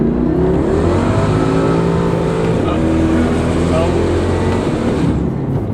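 A 700-plus horsepower BMW M5 with a full titanium Valvetronic exhaust accelerates hard, its loud, rising engine roar filling the clip from nearby, with voices talking over it.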